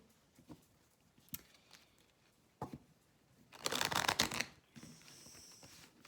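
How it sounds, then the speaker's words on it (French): Archangel oracle cards being shuffled by hand, a few short papery riffles and flutters with one louder, longer burst of card shuffling near the middle, fairly close and quiet with no talk. "Donc on va prendre une carte de l'oracle des archanges."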